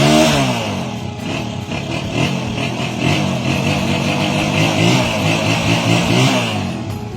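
A TMX155 motorcycle engine converted to 175cc, fitted with a dug-out exhaust, revs loudly up and down nearby, its pitch rising and falling in repeated swells over a rough, clattering idle.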